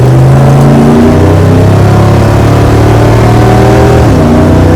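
A 1973 Dodge Dart Swinger engine revs hard in first gear, a loud, close, rising roar that climbs steadily before a brief dip near the end as the gear tops out.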